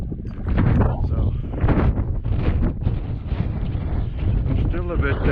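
Blizzard wind roars across a mountain hike on Mount Allan, a loud, constant buffeting gust against the microphone that barely lets up, with a muffled voice faintly underneath.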